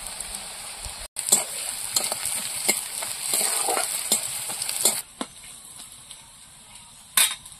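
Onion and garlic fry in a pan for a Bengali fish curry, a bright steady sizzle close by, broken by stirring scrapes and a few brief drops in level.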